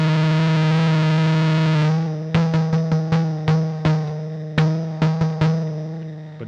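A harsh, heavily distorted synthesizer tone holds steady, then breaks into a series of sharp, buzzing stabs at an uneven rhythm, loud and close.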